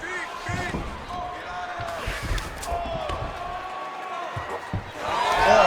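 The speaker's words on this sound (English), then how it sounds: "Oh, huge pop from the crowd as the fighters get back up to their feet" A fight arena crowd cheers and roars as fighters get back to their feet, swelling noise with shouts and whoops and a loud rise at the end, with a commentator talking over it.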